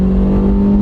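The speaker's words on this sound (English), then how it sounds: "we're in 3rd gear now, we'll just go down to 2nd gear." A manual-transmission car drops from third gear to second and accelerates, its engine holding a steady, droning hum close by with no talk over it.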